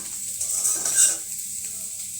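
Potato bhaji made from boiled potatoes being stir-fried in a pan with fried green chilli, a steady moderate sizzle with stirring scrapes swelling briefly in the middle, no talking.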